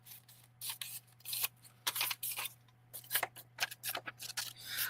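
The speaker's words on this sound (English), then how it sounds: "I have to cut off the white edge" Sheet of paper being trimmed with scissors for a mixed media fleur-de-lis box, a close, fairly quiet run of crisp snips in irregular bursts over a steady low hum, with no talk.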